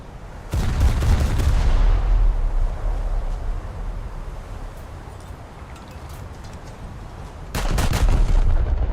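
Heavy naval guns of the battleship HMS Queen Mary firing in a naval combat video game: two loud, booming broadside salvos at the start and near the end, with a rumbling roar trailing between them.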